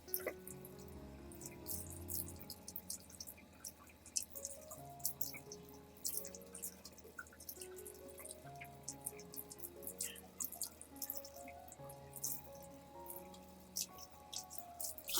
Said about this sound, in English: rinse the entire orchid under clean running water